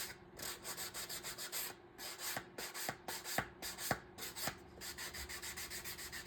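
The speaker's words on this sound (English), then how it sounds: "going to take a little sanding block and sand down the edges" A sanding block rubs back and forth over the edges of a wooden piece in quick, even rasping strokes, close up and steady, with a few sharper scrapes mixed in.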